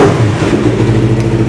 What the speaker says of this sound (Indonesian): Dan untuk knalpot racing coba kita nyalain